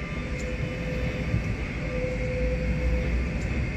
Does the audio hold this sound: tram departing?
yes